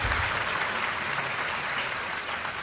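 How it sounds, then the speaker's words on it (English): Sustained, dense applause from a large audience at a university congregation ceremony at KNUST, steady and even throughout with no speech over it. "Please applaud Her Excellency, Professor Nana Jane Opoku Ajiman"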